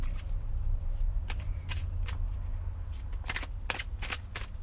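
Animal oracle cards being shuffled by hand, a run of quick riffling bursts and soft flicks repeating through the clip over a steady low room hum, close and fairly quiet.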